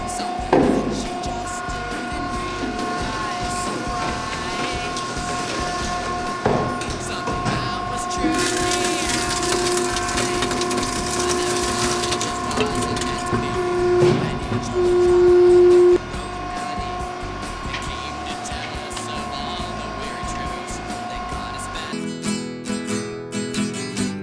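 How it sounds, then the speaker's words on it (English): Bluedog BMC-10 motor recycling machine sawing an electric motor stator in half, a steady mechanical whine and grind holding close and loud throughout, with a brief sharper squeal midway and the cut ending abruptly near the close. "This is where we're going to cut the stator in half."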